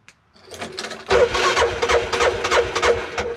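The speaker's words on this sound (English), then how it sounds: "Everything fires right up." A side-by-side utility vehicle's engine cranks and fires up after a remote kill switch is released, settling into a steady, fairly close running rumble after a brief quiet start.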